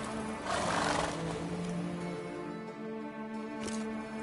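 Roach, a horse in The Witcher 3, gives a close, clear neigh with a rising whinny early and a shorter snort near the end, heard alone over a faint ambient bed.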